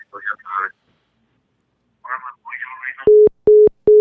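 Steady phone dial tone after a caller hangs up during a live podcast call-in, three loud evenly spaced beeps following brief talk.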